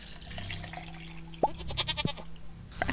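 A goat from the Stardew Valley farming game bleats briefly once or twice, with a sharp click and light splashy game effects over quiet background music, no talking.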